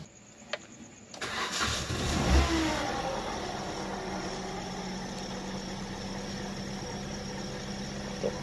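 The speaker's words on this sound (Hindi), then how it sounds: "इंजन में जो है थोड़ा सा साउंड है इसके" Petrol car engine cranking and catching after a fuel line refit, then settling into a steady mid-pitched idle with a continuous hum, close by and with no talking.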